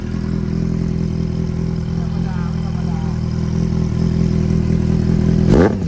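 A Kawasaki Z800 motorcycle engine runs at a steady, loud idle close up, with a rumbling drone and a brief rising rev near the end.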